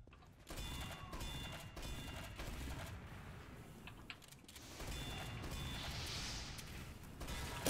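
Panic Attack shotgun fired repeatedly by a Pyro in Team Fortress 2, a dense run of gunfire and impacts over game noise, fairly loud throughout.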